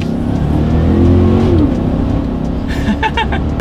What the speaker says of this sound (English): Let's do a quick little acceleration in this 2019 Tahoe, see how quickly it brings us up to speed here